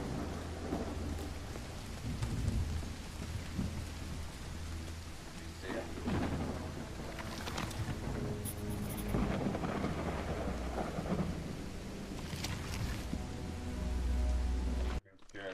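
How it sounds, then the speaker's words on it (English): Heavy rain and a rolling thunderstorm in the horror adventure game Call of the Elder Gods: a continuous dense downpour with repeated low rumbles and cracks of thunder throughout. "It's raining cats and dogs here."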